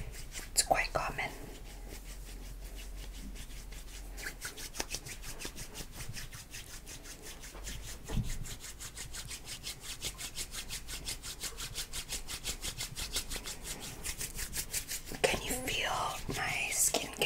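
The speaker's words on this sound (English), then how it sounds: "as I'm kind of like rubbing your skin" Hands rub repeatedly over skin in a close body massage, a soft, rhythmic rasping friction that continues throughout, with whispered speech over it.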